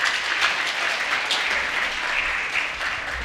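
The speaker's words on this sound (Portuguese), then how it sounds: "Uma salva de palmas para o Cláudio" Audience in a children's city council session applauds, producing steady, dense clapping from many hands throughout, fairly loud and filling the room without pause.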